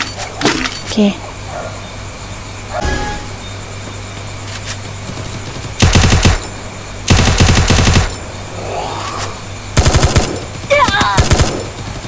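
Automatic gunfire in the Free Fire mobile game rattles in loud, close bursts of rapid shots, with scattered single effects and in-game noise between the volleys.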